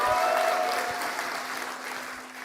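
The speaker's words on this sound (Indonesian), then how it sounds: "kita berikan tepuk tangan yang meriah" An audience at a doctoral examination applauds in a continuous, lively wash of clapping that gradually softens over a couple of seconds.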